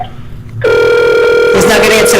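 A telephone rings on an outgoing call, starting abruptly after a quiet moment and holding as a loud, steady tone with harmonic overtones, with a burst of background noise near the end.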